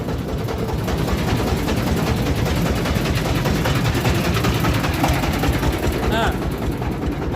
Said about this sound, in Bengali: এখন নৌকা চালাবো আমরা